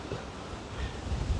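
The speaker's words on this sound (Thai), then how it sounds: "ลมพัดเย็น" Strong, cold wind blows steadily across an open rock field of scattered boulders in a highland national park, a continuous rushing roar with low buffeting gusts against the microphone and no voices.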